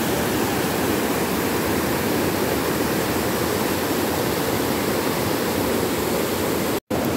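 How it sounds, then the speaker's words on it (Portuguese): A waterfall in a mountain stream at Alto Caparaó, Minas Gerais, roars as a loud, dense, unbroken rush of falling water close by, with only a momentary dropout near the end. "tem essa queda aí de água que vai encontrar lá na primeira parte que a gente já tinha passado antes"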